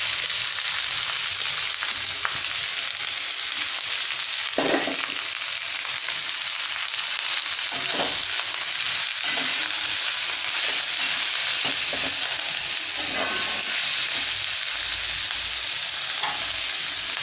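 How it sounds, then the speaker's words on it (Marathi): Chopped onions frying in hot oil, giving a steady, loud sizzle that carries on for the whole stretch, with occasional stirring scrapes against the pan. "तर हे तेल तापलेलं आहे, त्याच्यात मी हा सगळा कांदा आता परतायला घालते आहे"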